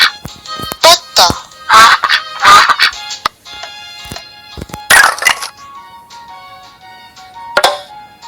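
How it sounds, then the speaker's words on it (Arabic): A farm duck quacks in several short, loud, separate bursts, each one standing alone with brief pauses between, then a single last quack near the end. "بطة."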